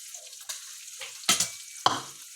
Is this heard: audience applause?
no